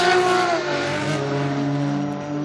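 Takahashi's E92 drift car at Formula Drift Japan screams past at high revs, the engine note dropping as it slides, with tire noise underneath, loud and close.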